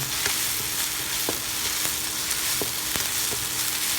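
Spice paste sizzles steadily in a hot pan before coconut milk goes in for an egg in coconut sauce dish, with a dense frying hiss and sharp crackles popping throughout and no voices.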